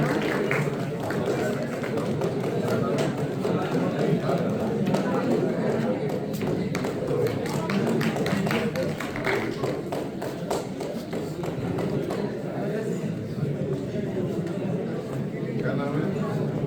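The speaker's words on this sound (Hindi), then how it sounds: "तालियां बजाते रहिए।" A crowd applauds at an award ceremony, with dense, continuous clapping that stays fairly loud and even throughout, and voices mixed in beneath.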